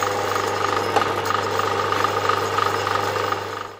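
A power drill bores through clamped fiberglass and aluminium panels, giving a loud, continuous whining grind that holds steady before cutting off at the end.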